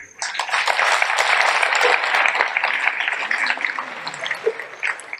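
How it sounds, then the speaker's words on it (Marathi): An audience claps together in a dense, continuous burst of applause that swells quickly, holds steady and thins slightly toward the end. "तुम्ही टाळ्या वाजवताय"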